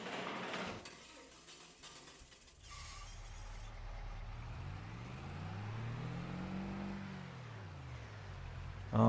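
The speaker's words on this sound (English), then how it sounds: "I want to take the truck, and then we'll go ahead and start making our way around the map" A truck in Farming Simulator 25, driven on the Memphis, New York map, gives a steady engine drone that rises and falls in pitch as it accelerates and shifts, close and continuous, with a mechanical clunk at the start.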